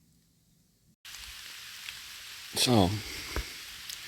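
Morning rain falls in a steady, dense hiss that starts abruptly after a second of near silence, with someone speaking briefly over it and a few sharper drip-like ticks.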